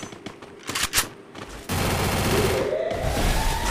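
Gunfire in the Free Fire battle royale game: a few sharp shots early on, then a loud, sustained stream of rapid automatic fire that runs to the end.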